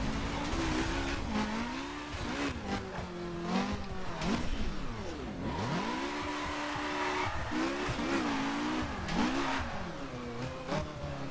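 Car engine in The Crew video game revving and bogging as the throttle lifts and reapplies, with tire squeal and skidding through a spin; steady, close and continuous with no voices.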